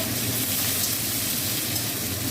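Chopped onion fries in hot oil seasoned with cumin, giving a dense, even, continuous sizzle that stays close and steady with no talking.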